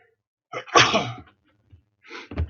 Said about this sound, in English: Spinoza makes me sneeze.